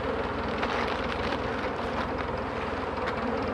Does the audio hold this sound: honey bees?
yes